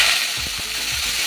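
Raw jackfruit pieces meet hot salted oil, producing a loud, bright sizzle with a few low thuds and scrapes as the pieces land and shift, brief and close, no speech.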